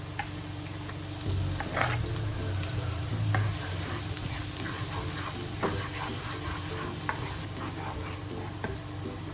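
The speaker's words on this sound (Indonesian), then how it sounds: "Setelah minyak panas, tumis bawang putih dan jahenya." Garlic and ginger fry in hot oil in a wok, giving a steady close crackling sizzle throughout, with stirring scrapes and clinks breaking in now and then.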